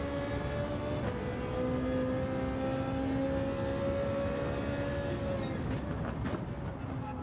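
A Ferrari 458 engine drones steadily in a racing video game, holding a sustained whine with a second tone rising in pitch partway through, then shifting near the end.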